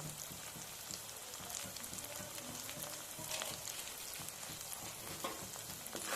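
Chili powder and turmeric frying in a pan for a prawn and taro-stolon curry, giving a steady, close crackling sizzle with faint scraping stirs, no one speaking.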